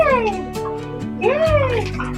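A small girl splashes bathwater during a bath, with soft splashes and sloshes mixed among her high-pitched voice and chatter close to the microphone.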